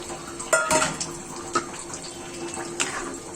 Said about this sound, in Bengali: দেখুন একটু পানি অ্যাড করে দিলাম